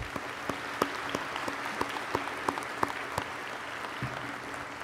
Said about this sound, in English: Please join me in a round of applause to thank our faculty, staff, and administration for their hard work and dedication.